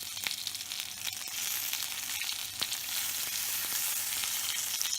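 Spicy chicken legs sizzle steadily in a pan over low heat, a continuous close frying hiss with scattered small pops and crackles, no voices.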